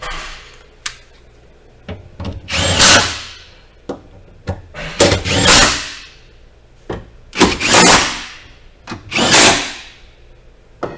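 Power tool driving a bolt while refitting the airflow duct on a 2023 Genesis G90 during 48-volt battery work, heard as several short whirring bursts with clicks and handling knocks between them, close and fairly loud, no talk.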